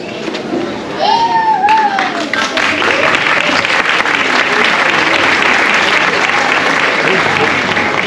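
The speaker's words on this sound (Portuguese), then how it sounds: "Essas palmas não foram para mim." Audience applause at a Navy Day military band ceremony in Natal, Brazil: a dense, loud crowd clapping that swells after the first second and holds steady to the end, with a few faint voices in the crowd.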